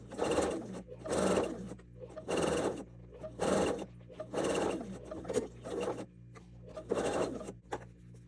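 Sewing machine stitching a seam on fabric cuffs in short loud bursts, about seven runs of rapid needle chatter separated by brief pauses, close and alone.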